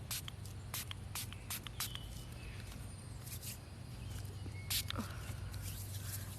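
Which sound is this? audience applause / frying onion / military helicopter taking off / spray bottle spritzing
spray bottle spritzing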